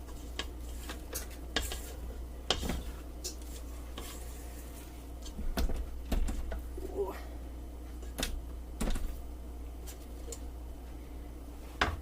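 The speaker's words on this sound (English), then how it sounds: "To just scrape the inside of the bowl, make sure we're not having like flour or anything just sticking at the bottom or sticking around the sides." A spatula scrapes cake batter for a chocolate zucchini cake from the inside of a mixing bowl, giving scattered soft scrapes and light clinks against the bowl at an irregular pace, fairly quiet and close.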